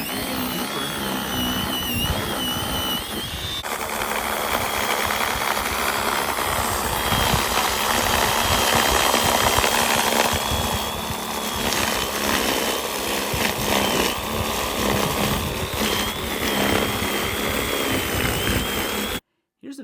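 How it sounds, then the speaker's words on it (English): An Enhulk 20V electric motorized snow shovel blows wet snow, giving a steady, loud, close motor whine with churning noise that runs almost nonstop for nearly twenty seconds before cutting off abruptly. "Here's an example of how this motorized snow shovel sounds while you're blowing the snow."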